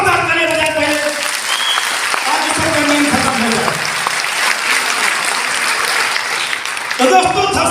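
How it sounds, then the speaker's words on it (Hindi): A large audience at a motivational seminar claps loudly for several seconds, a dense, sustained burst of applause, with a voice speaking briefly before and after it. "एक बार जोरदार ताली बजाएं पहले"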